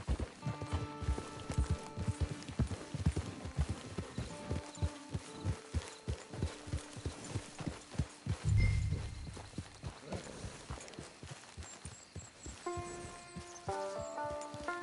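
Horse hooves clip-clop steadily in a video game, a quick rhythmic trot of soft thuds that continues for several seconds, then slows as the horse stops, with faint music underneath.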